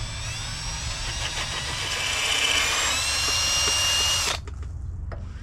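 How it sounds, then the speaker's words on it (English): A power drill whines steadily at high speed for several seconds, then cuts off sharply, leaving quiet shop background. "Clamp it down and drill it out"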